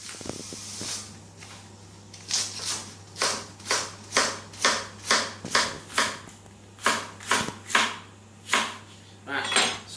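A knife chops potatoes and leeks for potato and leek soup, striking the board in a steady run of about a dozen crisp, close chops, with a low hum underneath.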